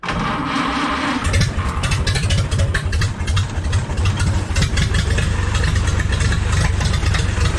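A Ford Model A engine cranks and catches in 40-degree weather without choke, then settles into a steady, loud, close idle with a rhythmic low chug.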